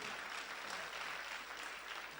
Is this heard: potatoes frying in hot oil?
no